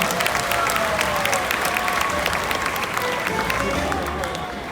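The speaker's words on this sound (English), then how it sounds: "Let's have that round of applause for Joe." Audience applause at a SeaWorld Orlando sea lion show, a broad, continuous spread of clapping from a large outdoor crowd, steady throughout with faint murmuring mixed in.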